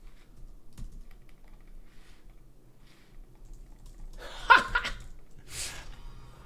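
Computer keyboard keys pressed in a live game-development session, a burst of clicky keystrokes near the mic with faint background noise and a brief chuckle.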